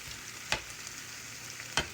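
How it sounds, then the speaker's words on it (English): Cabbage cooking in a pan with a little garlic powder, giving a low, steady sizzle broken by two sharp clicks or stirs a little over a second apart. "Cabbage is in there cooking."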